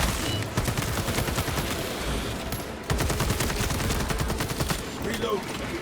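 Rapid, sustained gunfire in a video game rattles in dense bursts, loud and close, with a brief lull before the shooting resumes.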